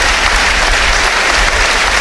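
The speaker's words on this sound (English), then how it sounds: "the applause in the 10th minute here continues at Brunton Park" Football fans applaud steadily at Brunton Park during a Carlisle United v Forest Green Rovers league match, a dense, sustained roar of clapping from the stands that fills the whole moment without a break.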